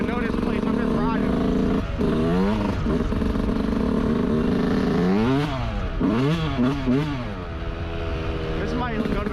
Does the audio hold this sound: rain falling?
no